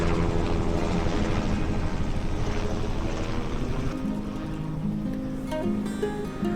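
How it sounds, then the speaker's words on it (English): A helicopter thumps loudly overhead with steady rotor chop, then gradually fades as it passes and moves away. "I did get a cool flyby of a helicopter"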